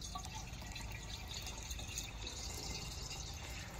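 Sea Foam fuel treatment poured from its container into a one-gallon can of gasoline for an outboard motor, a steady continuous liquid pouring and filling sound, close and fairly loud throughout, with no talking.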